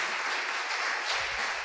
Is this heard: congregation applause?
yes